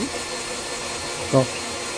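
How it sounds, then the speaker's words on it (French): A small Volcraft drill boring into beech wood, a steady high whirring hum that runs throughout at moderate level with a brief louder tonal whine near the end. "on va percer en utilisant, vous savez, le petit outil Volcraft."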